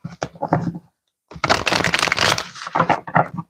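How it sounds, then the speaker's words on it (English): A deck of tarot cards being shuffled in quick riffling bursts, close up, with a brief pause before a longer flurry of crisp card slaps and flutters. "One more shuffle."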